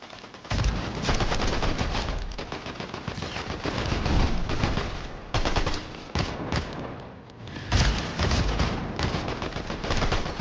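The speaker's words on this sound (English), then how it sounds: "Why is my gun automatically shooting?" Automatic weapon fire in Fortnite rattles in long, rapid bursts with short gaps between them, loud and close throughout.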